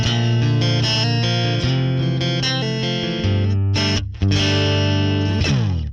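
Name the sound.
clean electric guitar through Fractal FM3, compressor, jazz chorus amp, Princeton cab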